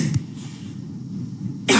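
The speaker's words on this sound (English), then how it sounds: "I'm talking so much, that's why coughing" One short cough at the start, then a quiet pause, then a second sharp burst at the very end.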